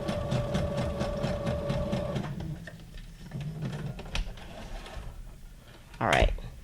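A home sewing machine runs in a craft room with a fast steady stitching rhythm for about two seconds, then stops; quieter handling noises follow and a loud brief rustle or clatter ends it.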